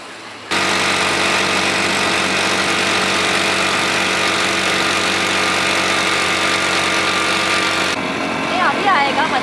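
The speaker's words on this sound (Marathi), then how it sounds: "आता ही मी मस्त मोटर बाईक राईड करणार आहे आता." Steady engine drone of a motorbike on a ride near Nagaon Beach, Alibaug, with strong low harmonics holding constant for about seven seconds before easing off, under wind rush.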